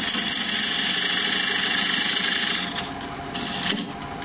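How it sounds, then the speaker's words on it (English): Freshly sharpened diamond point turning tool cutting the sides of a wooden tenon on a lathe, a loud continuous rasping scrape over motor hum that eases and shifts near the end, close and without talk. "Now I'm going to use this diamond point tool that I just sharpened on my belt sander to straighten up the sides of the tenon."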